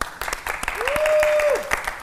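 Studio audience applause on a game show, a short burst of clapping with a whistle-like tone gliding over it, busy and close, fading out after about two seconds.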